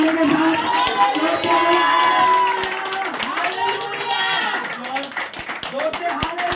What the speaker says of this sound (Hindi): आइए परमेश्वर के दास का तालियों के साथ पुलपिट पे स्वागत करें, हालेलुया के नारे के साथ।